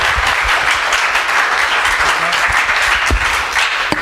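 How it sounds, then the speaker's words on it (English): Applause from a conference audience for a panel on advanced transmission technologies, loud and dense and steady throughout, with no voices over it. "Please give them a round of applause."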